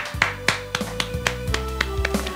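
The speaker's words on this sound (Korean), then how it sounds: "우리 하나님께 감사의 박수 돌리겠습니다" A church congregation claps at a Wednesday worship service, with separate sharp hand claps in an uneven rhythm over a low sustained tone, close and moderately loud.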